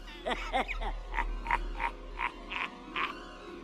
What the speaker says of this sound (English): please everyone try to ignore the frog in the background